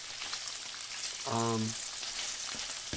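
Tofu sizzles and crackles steadily in a hot oiled frying pan, with a brief low hum cutting in partway through.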